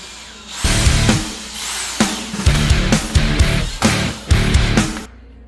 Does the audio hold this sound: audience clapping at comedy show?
no